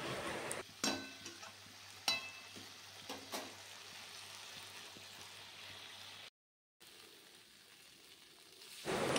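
A paste of ginger, cumin and chilli sizzles in a pan while it is stirred, a steady low frying hiss broken by a few sharp scrapes and clinks, then a brief dropout before the sizzle returns louder.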